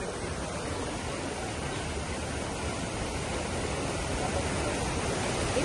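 Water rushes steadily at a monsoon waterfall, a dense, continuous roar that holds at an even level throughout, with no clear voices over it.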